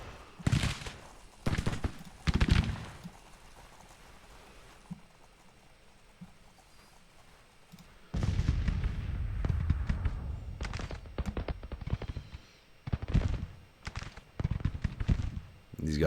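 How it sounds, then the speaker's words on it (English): Civil War battle gunfire and cannon fire from Grand Tactician: The Civil War, heard as bursts of crackling musketry and deeper booms. The volleys are dense at the start, ease off, then build again more heavily, with talk over parts of the clip. "And we got plenty of firing going on over here."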